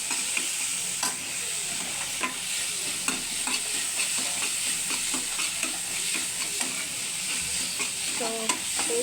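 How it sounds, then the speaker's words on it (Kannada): Curry leaves fry with beans in a pan, giving a steady close sizzle with occasional crackles and the scrape of a stirring spoon, with no voices. "ಸ್ವಲ್ಪ ಲೈಟಾಗಿ ಫ್ರೈ. ಸೊ ಇವಾಗ ಲಾಸ್ಟ್ ಕರಿಬೇವು ಹಾಕ್ತಾಯಿದ್ದೀನಿ"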